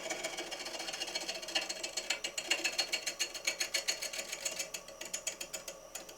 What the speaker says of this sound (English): So just beginning with a 1/4 inch ball gouge.